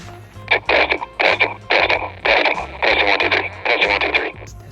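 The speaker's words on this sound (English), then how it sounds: "The radio actually went ahead and punched" A GMRS handheld radio keyed up outdoors at low power in a large backyard, sending a transmission with privacy tones: bursts of noisy, tone-laced radio audio, loud and close, with a steady low buzzing tone pattern beneath.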